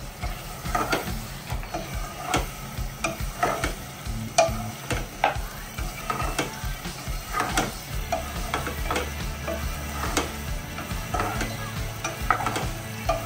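Spatula stirring egg biryani in a pan, a long run of repeated scraping and clinking strokes in an irregular rhythm over a constant soft frying sizzle.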